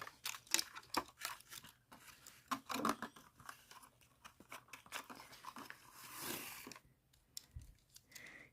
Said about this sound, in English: This plastic bag was a lot harder to open than expected.